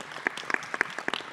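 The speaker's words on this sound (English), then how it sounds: "Can we give him a round of applause?" An interview audience gives a short burst of applause, a few distinct close claps standing out over a soft background of clapping.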